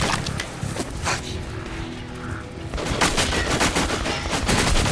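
Gunfire aimed at an iron target in the video game Metro: Last Light, a rapid run of loud, close shots that eases briefly mid-way and then resumes heavier, with no talking over it.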